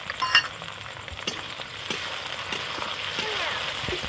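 Onions and tomatoes frying with cinnamon, bay leaf and whole cumin for chicken biryani, a steady close sizzle with scattered clinks of a utensil against the pan.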